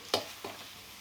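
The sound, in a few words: stir-frying rice with vegetables in pan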